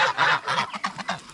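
Ducks and turkeys on an unfenced farm near a house, a run of quick honking and clucking calls close by, with no one speaking.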